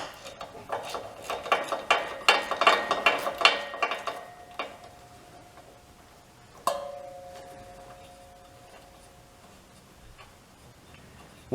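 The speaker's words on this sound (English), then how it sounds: "Now we take a 1/2-inch socket." A ratchet with a 1/2-inch socket works on an old Wisconsin V4 engine, a quick run of close metallic clicks and taps, then a single clink that leaves a faint ringing tone.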